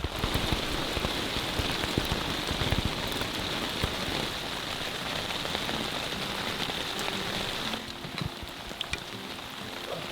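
Heavy rain patters steadily nearby as a dense, constant wash, with a few sharper drips and a faint low rumble toward the end, and no voices.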